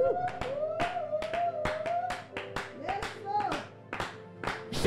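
A church congregation claps in a steady rhythmic beat while a preacher's voice carries over the applause, sustained and close.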